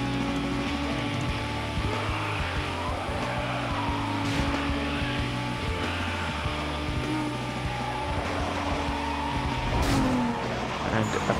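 A race car in Need for Speed: Most Wanted, its engine droning loud and steady, the pitch shifting as it speeds up and slows, with the whine of tyres skidding and a brief rising squeal near the end.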